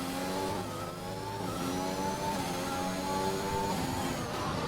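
A race car engine in the F1 2021 video game at Baku holds a steady, continuous high whine that climbs in pitch as it accelerates, loud and unbroken with no talking.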